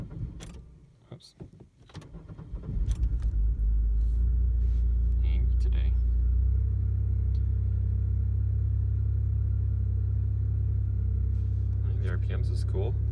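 Car engine starting and settling into a steady, loud rumbling run that holds for about ten seconds, with a few faint clicks and light handling noises on top.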